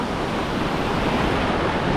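Rough, heavy sea waves break at a beach in El Nido, the Philippines, giving a dense, steady roar of surf with some wind noise, loud and continuous throughout.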